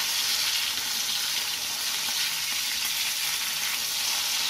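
A trevally (Malabar king fish) fries on a flat dosa tawa with a steady, dense sizzle that stays close and loud throughout, with no talking.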